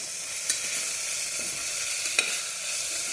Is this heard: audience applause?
no